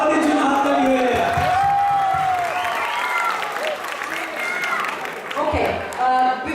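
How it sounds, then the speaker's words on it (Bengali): An audience at a Puja cultural program with children's recitations bursts into sustained applause for the fathers, a steady wash of clapping with some crowd murmur and a voice on a microphone over it. "এটা বাবাদের জন্য হাততালি হয়ে যায়।"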